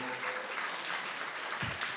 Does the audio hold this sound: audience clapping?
yes